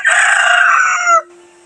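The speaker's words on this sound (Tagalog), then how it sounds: "di manok ng Zamboanga." A Zamboanga rooster gives one loud, close crow lasting just over a second, followed by a faint low hum and a soft thump.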